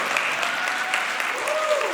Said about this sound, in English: This is where I pause for the applause